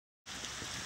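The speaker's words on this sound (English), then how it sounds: "And the rain continues to come down." Steady rain falls during a move out of a house on Lockwood Boulevard, a dense continuous hiss that starts abruptly after a short silence and holds at an even level.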